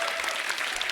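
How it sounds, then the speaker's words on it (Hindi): Studio audience at a Hindi comedy talk show applauds, with brief, dense, continuous clapping from a large crowd. "तालियां बनती हैं।"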